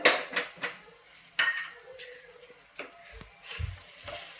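A metal spoon stirs and scrapes soft sheera prasad in a pan, with clattering knocks against the metal, a soft sizzle between strokes and a few low thuds, close and clear without talk.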